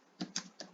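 Three quick, quiet keystrokes on a computer keyboard while typing Python code, each a short crisp tap with brief pauses between them.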